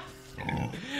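Pig grunting in the game A Plague Tale: Innocence, a short low grunt over a steady background tone, with a voice speaking faintly underneath.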